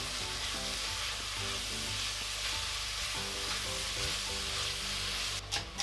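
Leek, potato and celery soup being mixed in a pot, with a steady sizzling bed under it, quiet tonal hum throughout, and a brief clatter near the end.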